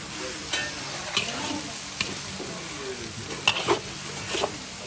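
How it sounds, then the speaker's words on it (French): Steady loud sizzle of garlic sauce hitting a hot frying pan of Mauritian-style fried noodles, with periodic scraping strokes of a utensil stirring the food close by. "Quand ça commence à coller, on met de la sauce d'ail dedans."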